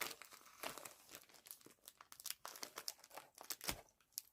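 Small parcel being opened by hand, its packaging crinkling and tearing in a continuous series of close, faint rustles and crackles with no talking.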